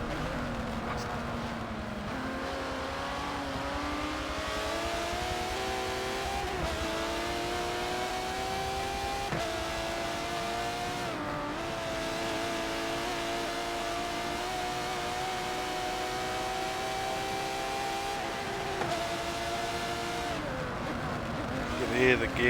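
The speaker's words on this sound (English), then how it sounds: "Hear the gear there, slightly late on the gears by the sounds of it" A race-tuned Aston Martin DBR9 engine in the Forza racing game at the Nürburgring GP circuit drones steadily, its pitch rising and dropping at several gear shifts, with a commentator talking over it throughout.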